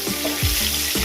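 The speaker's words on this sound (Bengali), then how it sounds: "আমার এখানে তেলটা গরম হয়ে গেছে আমি বেগুনগুলোকে ভেজে নেবো" Salted, turmeric-coated eggplant slices frying in hot oil make a loud, dense sizzle close up, with a couple of brief pops over about a second.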